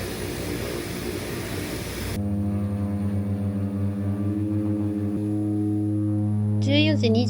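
Seaplane propeller engine during a flight to a Maldives resort, a loud steady droning hum that shifts in pitch, heard from inside a cramped cabin, with a brief voice near the end.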